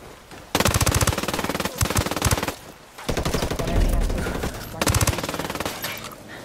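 Machine gun fire in the Ghost War video game: loud, rapid automatic bursts separated by brief pauses, several volleys in sequence.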